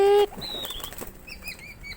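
A tame pigeon flaps its wings in a short, close burst of flutters, followed by faint high chirps.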